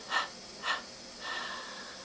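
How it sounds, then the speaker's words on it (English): Soft, close breathing from a guided meditation: two short airy breaths, then a longer, smooth breath trailing off, all quiet with no talk. "A long, smooth inhaling breath. Triple exhale through the mouth."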